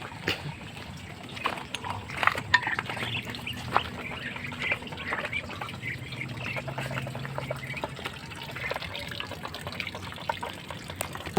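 Pet ducks at feeding time quack and dabble in water, with a steady run of splashing and a faucet-like trickle throughout, busy calls close by and no talk.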